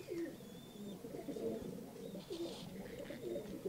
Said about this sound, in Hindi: ये माशाल्लाह बड़ा प्यारा कबूतर है जी।